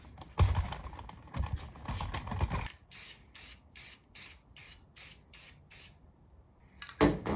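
Aerosol spray can laying a light coat onto the roof of a Subaru WRX during wrap prep: a run of about eight short, regular hissing bursts, preceded by handling clatter and bumps, with one more burst at the end.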